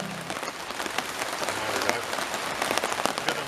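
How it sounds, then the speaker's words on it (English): Rain pattering steadily on surfaces at a wet overnight outdoor camp beside a big fire, a dense crackling hiss of drops close by with no voices. "Got the rain as well now."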